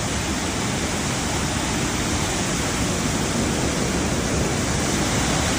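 A river waterfall near Vancouver pours in a steady, dense roar of rushing water, loud and unbroken throughout, with no voices.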